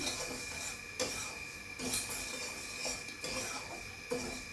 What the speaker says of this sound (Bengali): আমি ডালিয়াটাকে একটু ভেজে নিচ্ছি।